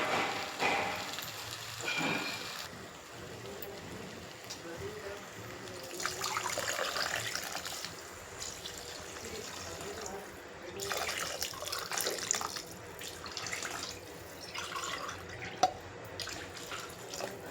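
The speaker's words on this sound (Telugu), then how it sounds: "వాటర్ పోస్తాను ఇప్పుడు." Water poured into a pot of tomato masala rice: uneven splashing and trickling bursts that swell and fade over several seconds, with drips and clatter between pours, moderately close, no talk.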